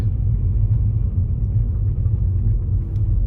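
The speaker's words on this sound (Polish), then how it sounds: "Jeszcze nie wjeżdżałam tu autem." A car rolls slowly through a cemetery in Iceland, a steady low rumble of engine and tyres heard from inside the vehicle, continuous and fairly loud, with no talking.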